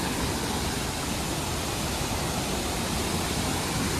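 The powerful Krimml waterfall thunders at about 1170 metres, a dense, constant roar of rushing white water filling the whole stretch, loud and close with no letup.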